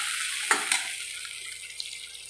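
Tomato and ginger paste sautéing in a pan, a steady broad sizzle with a couple of sharp stirring clinks near the start, close and alone without talk.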